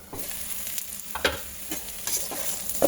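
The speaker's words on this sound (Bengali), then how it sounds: "চলো এটাও ভালো করে ভাজতে থাকি" Chopped capsicum and chilli frying in a pan, a constant close sizzle with irregular scrapes and light clicks of a spatula stirring, no speech.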